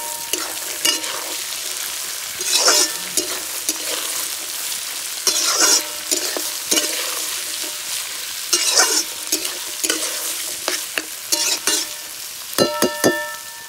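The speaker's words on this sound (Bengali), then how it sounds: "গাজর তো প্রায় ভাজাই হয়ে গেছে" Carrots and capsicum sizzle steadily in hot oil for vegetable pulao, with a constant loud frying hiss broken by repeated scraping stirs of a spatula in the pan.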